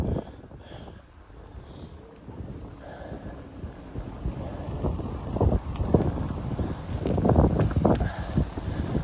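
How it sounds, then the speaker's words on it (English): Strong outdoor breeze buffets the microphone in gusty, low rumbling bursts that grow heavier and louder toward the end, with no speech. "Whoa, super breezy."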